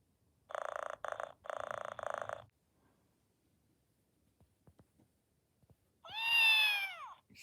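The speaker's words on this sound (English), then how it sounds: "So that's the type of meow it makes when you stroke it on its head." A Trendmaster robotic kitten toy gives three short buzzing electronic purr bursts, then after a few faint clicks lets out a single rising-falling synthetic meow, close and clear in a quiet room.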